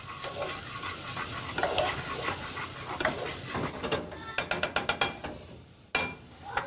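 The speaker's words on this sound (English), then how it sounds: "Go ahead and stir in the paprika with these onions here" Paprika being stirred into onions in a hot pan for restaurant-style fajitas, with soft sizzling under a run of quick scraping strokes that build into rapid rhythmic clicks near the end, and no talking.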